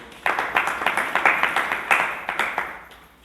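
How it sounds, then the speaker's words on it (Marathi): An audience at a Marathi devotional satsang gathering in Nanded claps in unison to welcome a guest, a series of about a dozen rhythmic, crisp group claps that taper off at the end. "सर्वांनी आपण टाळ्या वाजवून त्यांचं स्वागत करू"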